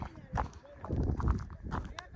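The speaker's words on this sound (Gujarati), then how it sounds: "ઘોડી ભાગી રહી છે" Quick hoofbeats clatter in a rapid rhythm as a mare runs, with people talking over them.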